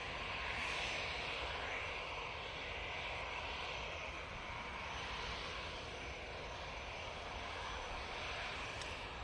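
A steady, distant roar from an EasyJet airliner's jet engines at Manchester Airport stays broad and continuous throughout, heard outdoors from a plane-spotting position.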